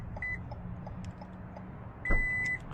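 Car lock beeping to confirm a freshly programmed duplicate key: a pair of short electronic chirps separated by about two seconds, clear over a steady low idle hum.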